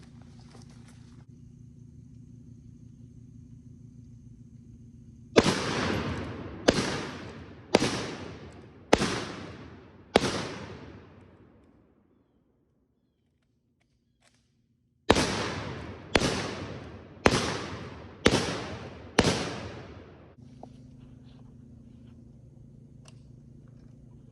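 A Short Magazine Lee Enfield rifle fires ten rounds in rapid succession, two groups of five loud, sharp shots about a second apart, each with a decaying echo and a quiet pause between the groups.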